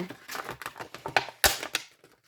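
Plastic packaging around a set of three cutting dies for a family tree design being pried open, giving a close burst of crackling, crinkling and snapping with a sharper pop midway, alone without talk.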